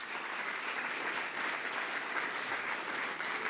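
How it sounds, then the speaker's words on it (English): Sustained audience applause at an Engineers Week reception, a dense steady wash of clapping from a crowd filling the whole stretch without a break. "please give them another round of applause"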